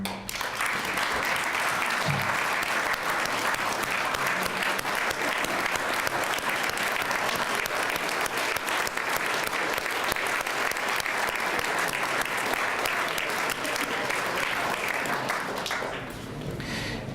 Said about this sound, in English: let's get a round of applause for you all